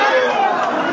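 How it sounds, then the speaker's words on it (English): A dense crowd reacts loudly at a pool final, a steady wash of excited chatter and cheering voices filling the hall without a break. "Look at the reaction of the crowd."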